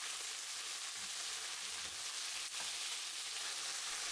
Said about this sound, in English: add the pieces of marinated meat. Spread them well. Let them sear for 30 seconds.